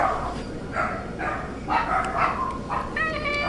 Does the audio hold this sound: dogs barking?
yes